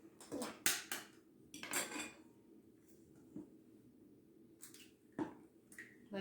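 Whole eggs are mixed in a bowl for a cheesecake batter, with quick clinks and scrapes of a utensil against the bowl in short bursts separated by quiet gaps.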